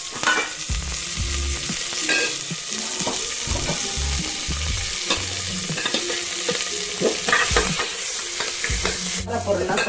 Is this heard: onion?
yes